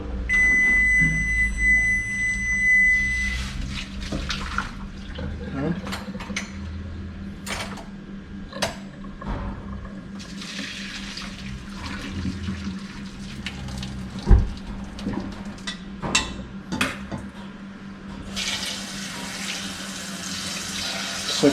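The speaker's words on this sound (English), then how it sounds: "So here I'm gonna pour this water off in the sink." Water pours off a pot into a kitchen sink during Jamaican yard-style cooking, a steady splashing stream broken by occasional clanks and creaks of utensils, fairly close and with no one talking.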